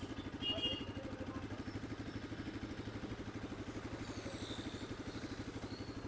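A 2023 Bajaj Pulsar RS 200 motorcycle engine idling close by, a steady rapid putter with even rhythm throughout, faint and unchanging.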